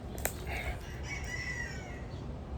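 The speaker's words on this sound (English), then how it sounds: "I don't know if you guys hear the chickens, but yeah, they're out here going crazy." Chickens outdoors, with crowing roosters and clucking fowl carrying on in the background; one sharp call stands out early, then drawn-out crows ring through the steady outdoor noise, fairly distant.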